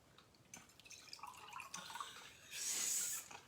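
Water is dripped into a whisky glass, a soft trickle rising to a brief brighter pour near the end, faint and close.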